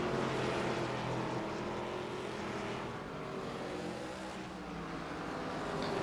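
A D class ARCA race car engine droning steadily at Langley, a loud continuous in-car roar that dips slightly midway and then builds again, with no voices.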